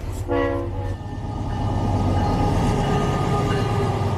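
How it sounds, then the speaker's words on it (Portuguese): A very long diesel ore train pulled by five coupled locomotives sounds its horn in a loud, sustained blast, then keeps rolling past with a heavy, steady rumble and clatter of ore cars. "O maior trem do mundo, puxado por 5 locomotivas a óleo diesel, engatadas, geminadas"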